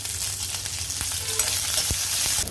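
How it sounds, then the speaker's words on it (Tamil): Mustard seeds, cumin, dried chillies, shallots and curry leaves sizzle in hot oil with a continuous close crackle, a few sharper pops and stirring scrapes breaking through. "எண்ணெய் சூடானதுக்கப்புறம் இதில் கடுகு ஜீரகமும் சேர்த்துக்கிறேன்."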